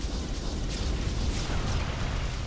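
Rocket launcher towers in the tower-defense shooter Sanctum, a steady rumbling roar of overlapping explosions and mechanical bursts with no clear gaps, fairly loud and continuous.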